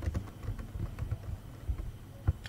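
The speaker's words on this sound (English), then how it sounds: "once you're done typing any text" Keys on a computer keyboard are tapped in a quick, irregular run of soft clicks, close and fairly quiet, with no speech.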